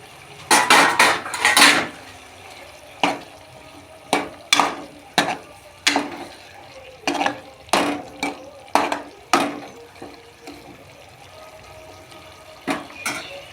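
Eggplant pieces tipped into a cooking pan for a vegetarian begun bahar: a series of sharp metallic clanks and scrapes of a utensil against the pan, some in quick clusters, over a soft background sizzle.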